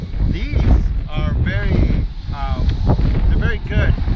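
Strong gusty wind roars and buffets the microphone continuously, with faint higher tones drifting through the rushing noise, among cholla cactus in Joshua Tree National Park.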